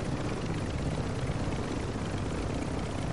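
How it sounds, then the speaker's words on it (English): A helicopter in the Call of Duty DMZ video game gives a dense, loud, continuous rotor and engine roar, close and steady throughout with no talking. "Here comes the chopper."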